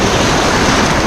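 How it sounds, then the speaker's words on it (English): Strong, high ocean surf rolls onto a beach in one continuous loud, broadband wash, with wind roar blending into the crashing water. "we got a really high surf today."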